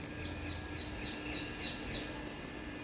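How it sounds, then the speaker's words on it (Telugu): Faint bird chirps repeat in a steady rhythm, a short call roughly every half second, heard over a low background hum. "ఎన్ని రకాల పక్షులను చూసే అదృష్టం"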